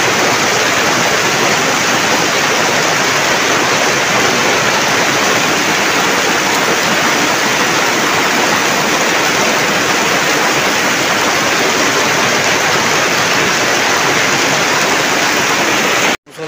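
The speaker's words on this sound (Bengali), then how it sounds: "মুষলধারে বৃষ্টি হচ্ছে" Torrential monsoon rain pours down steadily, a dense, loud, unbroken roar of water that holds the same intensity throughout before cutting off abruptly.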